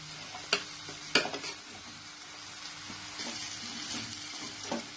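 Peeled, cut chow chow (chayote) is stirred and sautéed in a pan for a tamil-style chow chow gravy. A soft, steady sizzle runs under occasional sharp scrapes and clinks of the spoon against the pan, fairly quiet and close, with no talking.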